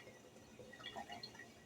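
Solomon seal infused oil pours in a quiet, thin trickle with faint liquid drips and small splashes, close and soft, with no talking.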